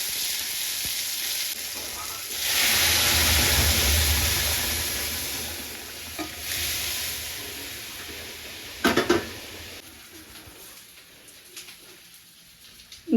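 Chopped tomato hits hot oil for tempering masoor dal with carrot and coriander, bursting into a loud hiss that settles into steady sizzling and frying, with stirring clatters and pigeons cooing in the background.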